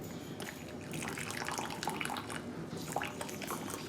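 Coffee spilling and splashing out of a microwave coffee brewer, a continuous liquid pour and dribble with scattered drips, fairly quiet and close.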